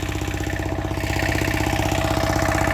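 An old, smoky Chinese HT 135E tractor engine chugs at idle, a loud, steady, rhythmic low-frequency putter running close by without any speech.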